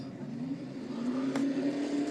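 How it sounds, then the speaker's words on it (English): Engines of Traxxas RC trucks racing at Pocono Raceway make a steady, loud whine that climbs slowly in pitch as they accelerate together, alone without talk. "Drivers, start your engines."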